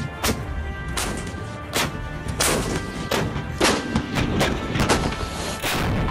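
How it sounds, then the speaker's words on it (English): Howitzer artillery fires in a rapid series of sharp, booming blasts, about a dozen heavy thuds spread unevenly across several seconds, loud and echoing, with no speech. "There are self-propelled howitzers, pack howitzers, mountain howitzers, and field howitzers,"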